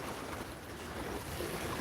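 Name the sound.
strong gusty wind outdoors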